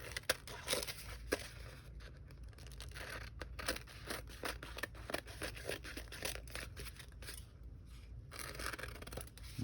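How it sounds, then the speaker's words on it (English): Scissors trim excess tissue sewing-pattern paper along the edge of a junk journal card, giving a steady series of close, crisp snips and papery crinkles that repeat in a quick, uneven rhythm. "Just go along the edge and cut all this excess tissue / sewing pattern off."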